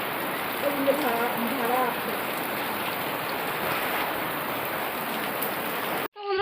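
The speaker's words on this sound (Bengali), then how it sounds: "বাইরে বৃষ্টি তো টিপু করে পড়ছে" Steady rain falling outside, a dense, even hiss of drops on surfaces heard close and continuous, with a brief voice speaking in the middle before the sound cuts off abruptly near the end.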